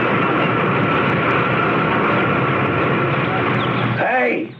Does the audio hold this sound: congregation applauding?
no